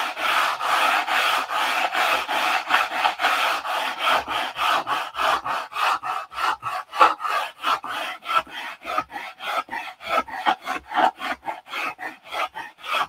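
A model airplane wing for a 1/2 A Cobra is sanded by hand, a dry raspy rubbing in quick regular back-and-forth strokes, close and fairly loud, that turns more clipped and evenly spaced as it goes.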